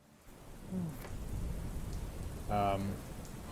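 Steady rain falling through the night, a continuous soft hiss of drops on surfaces with a faint low rumble, holding at an even level and swelling briefly near the end.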